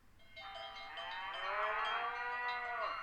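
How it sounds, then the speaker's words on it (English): A cow in the video game Nancy Drew: Secret of Shadow Ranch lets out one long, drawn-out moo that swells and then falls in pitch, fairly faint and on its own. "Hear that? That's the sound of happy cattle, healthy cattle"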